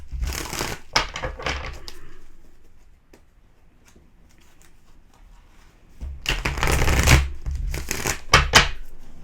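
Tarot cards shuffled by hand in two bursts of crisp riffling and slapping, close and loud, separated by several seconds of near silence with a few light taps.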